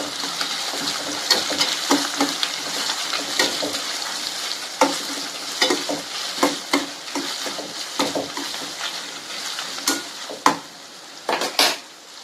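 Dried red chillies fry in oil with onions in a pan, a steady sizzle broken by frequent scraping stirs of a utensil against the pan, close and fairly loud.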